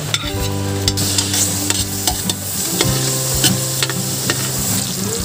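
Onion and garlic sizzle loudly in a hot pan while being stirred, with close, continuous frying crackle and scraping stir strokes throughout, for a Filipino spaghetti sopas, with no talking.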